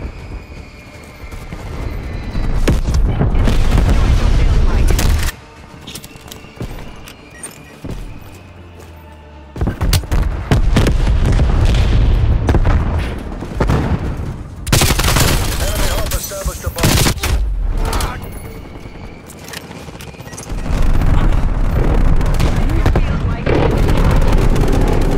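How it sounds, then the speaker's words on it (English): Strafe-run airstrike in Call of Duty Cold War: rapid bursts of heavy gunfire and booming explosions tear through in waves, loud and close, with short lulls between volleys. "Strafe run incoming on your location."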